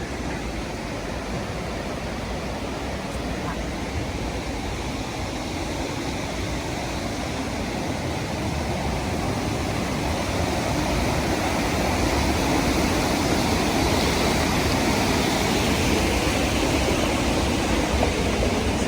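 A steady, broad roar of falling water at Linton Falls, Grassington, in the Yorkshire Dales, constant and fairly loud, growing slightly stronger toward the end with no voices.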